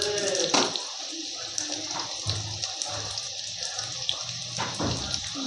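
Water poured into a pan of bhetki fish curry with potato, aubergine, chilli powder, salt and turmeric, giving a soft, steady splashing that runs under kitchen clatter for a few seconds.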